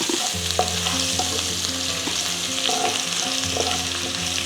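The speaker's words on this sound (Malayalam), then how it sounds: "ഇറച്ചിയിൽ നിന്നും തെളിച്ചെടുത്ത എണ്ണയിലാണ് നമ്മൾ ഇതെല്ലാം ഇട്ട് ശരിയാക്കുന്നത്" Ginger and garlic fry in oil rendered from pork, giving a loud, continuous close sizzle with stirring clicks and scrapes of a spatula against the pan.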